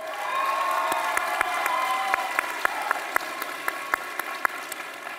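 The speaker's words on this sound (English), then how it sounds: "What a rowdy crowd we've got here." A large commencement crowd claps steadily in a big hall, with scattered sharp, louder claps standing out over the continuous applause, and no voice over it.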